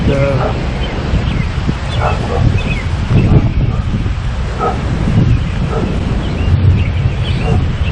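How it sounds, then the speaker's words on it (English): Wind buffets the microphone outdoors in a spring flower garden, a steady low rumble running throughout with rustling and a distant dog bark or two, and a person talking over it. "I hope this wind is not too big of a problem."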